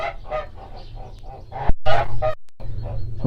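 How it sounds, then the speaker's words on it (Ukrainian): Bielefelder and Minorca hens in a summer enclosure, clucking and murmuring in a close, busy chorus with a few louder squawks and brief gaps, no talking. "Чуєте, як журяться наші корочки?"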